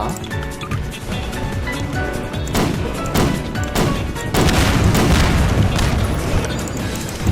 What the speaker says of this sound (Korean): 야 받아라! 폭탄 받아라!